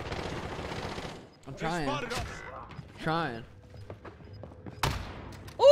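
Gunfire in a battle royale video game crackles in short bursts, with rapid shots and a loud blast near the end mixed with game sounds, while a player speaks over it.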